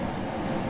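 A steady low rumble of a train at a busy station platform in the Roblox game Grand Continental Railways, near and continuous with no talk.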